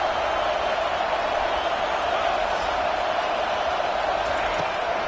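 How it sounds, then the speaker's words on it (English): A packed football stadium crowd roars in a steady, dense wall of sound, loud and unbroken, as fans try to help their defense. "Listen to this crowd just shaking the girders of this place,"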